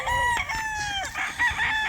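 A rooster crows loudly and close at a large gamefowl farm, one drawn-out cock-a-doodle-doo with a few clucks from other birds around it and no talking.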